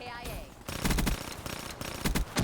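Rapid bursts of gunfire from a first-person shooter video game, several loud automatic volleys in quick succession, close and punchy, following a short quieter stretch at the start.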